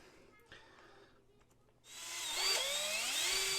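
A power drill bit whines into a resin model kit part, starting abruptly partway through and holding a loud, steady high-pitched grinding with pitch shifts as it bites, after a quieter stretch of faint handling noise.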